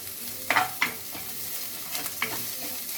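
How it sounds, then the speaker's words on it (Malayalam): Green chilies and curry leaves sautéing with softened onion and salt in a pan, a steady close sizzle broken by a few sharp spoon clatters and stirring scrapes, no voices. "ഉള്ളി ഒന്ന് വഴന്നപ്പോൾ നമുക്ക് പച്ചമുളക് അതിനകത്തേക്ക് ഇട്ട് കൊടുക്കാം."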